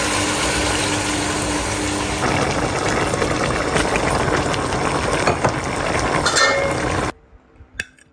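Water pours steadily and loudly into a cooking pot of dal and garden vegetables with fish head, then stops abruptly, followed by a few faint clinks.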